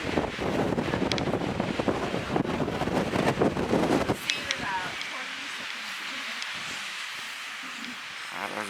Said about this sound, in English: there's a brief dive down in the wind. Very brief. It's back again.